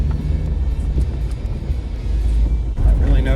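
A 2003 Acura RSX is driven just after a fuel pump replacement, with a low engine and road rumble heard from inside the car and a brief voice over it.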